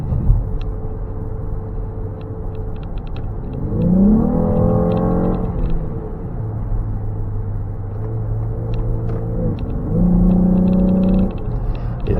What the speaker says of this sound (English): the car is definitely a lot louder than it used to be